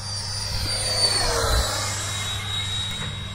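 A radio-controlled F4 Phantom model jet flies at Hilton Field, giving a steady, continuous turbine whine with a broad airy roar that swells slightly midway, heard from a moderate distance with no talk.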